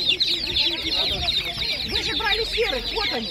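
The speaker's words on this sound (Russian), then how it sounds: "это утятки, это гусятки, вот утятки, вот они утяточки, и маленькие цыпляточки" Ducklings, goslings and chicks for sale at a market peep and chirp busily and close by, while someone talks over them.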